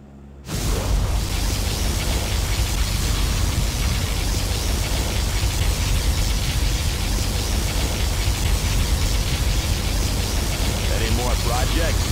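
A particle cannon fires in C&C Generals, a sustained, dense roaring blast that swells in almost instantly and holds at full, steady loudness for the whole span, like a continuous broadband beam.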